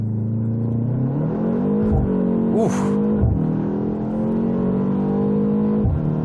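Loud 2025 BMW M235 Gran Coupe turbo engine held at a steady high rev around 3,000 rpm under launch control, its pitch climbing and wavering, up close; a person briefly exclaims partway through.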